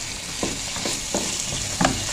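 Tomato strips, onion and capsicum land in a hot pan and sizzle steadily for a bread pizza topping, with a few soft stirring scrapes and no talking.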